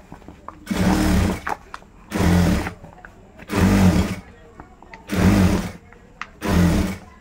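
A sewing machine stitching a bag made from a rice sack runs in five loud, close bursts of about a second each, separated by short pauses with faint handling noises.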